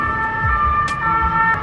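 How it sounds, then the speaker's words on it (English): An ambulance siren wails on a Paris street, a steady, fairly loud two-tone whine over low rumbling traffic, with no voices. "Every single day, there's an ambulance."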